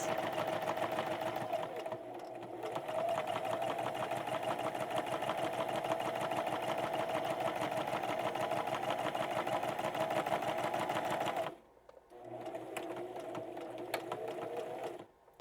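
A sewing machine stitches a quilted wall hanging in a long, steady, fast-rattling run that stops briefly twice, then resumes close and loud.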